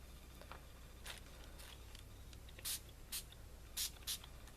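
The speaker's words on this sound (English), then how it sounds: "a lot comes out on that spray, doesn't it?" Matte spray paint hisses from an aerosol can in several short bursts, the loudest coming as a quick run of sharp sprays near the end over a quiet room background.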